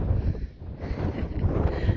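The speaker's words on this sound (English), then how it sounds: "Sorry about the wind on the rocks." Wind gusts over rocks on a High Sierra pass, buffeting the microphone in a constant loud rushing roar for the whole moment.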